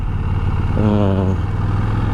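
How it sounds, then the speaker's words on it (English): A KTM Duke 890 motorcycle engine on a commute ride gives a steady low drone, then a brief, rising throttle blip partway through that quickly falls back, all under constant wind rush. "It actually revs a little quicker than my Ducati."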